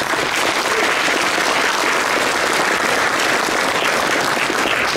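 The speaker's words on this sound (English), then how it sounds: "give them a round of applause, please" Steady, dense applause fills a room at an award gala honoring healthcare workers, loud and continuous for the full five seconds with no pauses.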